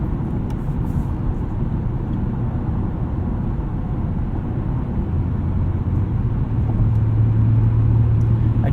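Interior of a 2018 Acura TLX A-Spec driving at night: a steady low road and engine drone fills the cabin, with a rising engine tone toward the end and no voices.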